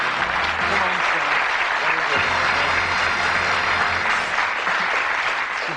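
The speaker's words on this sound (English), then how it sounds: "Give them a nice round of applause because they've done very, very well." A crowd applauds darts contestants on a 1982 game show steadily, loud, dense clapping with some cheering mixed in, sustained from start to finish.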